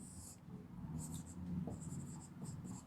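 Handwriting an answer in a Sanskrit exercise: short bursts of pen or chalk scratching come in quick strokes over a low background murmur, close and faint, with no talk.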